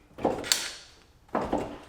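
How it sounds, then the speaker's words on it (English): A faulty Chevrolet Corvette C6 door lock actuator whirs and clunks through two short mechanical bursts in quick succession, each a close, dull thud with a brief rattle, and the car is otherwise quiet. "So if I hit the unlock button on the door, you'll see"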